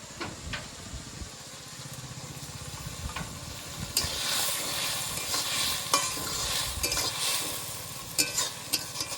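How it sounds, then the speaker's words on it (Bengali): Fried prawns go into ridge gourd frying in a pan: a steady sizzle with scraping stirs that swells into a louder crackling burst midway, punctuated by sharp clacks of the utensil against the pan. "ভেজে রাখা চিংড়ি মাছগুলো এবার ঝিঙ্গের মধ্যে দিয়ে দেবো।"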